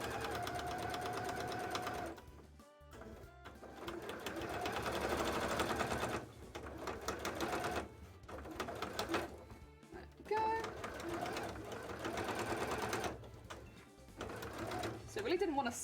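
Sewing machine forcing stitches through a thick cosplay leg piece, its motor labouring in uneven bursts and pauses while a person talks over it.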